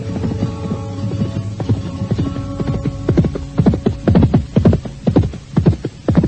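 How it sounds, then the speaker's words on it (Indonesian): Horse hooves clip-clop in a steady rhythm along a dark footpath as a sound effect in an audio drama, growing louder and more distinct toward the end over a low hum. "Lintang Awan terus memacu kudanya menelusuri jalan setapak yang gelap"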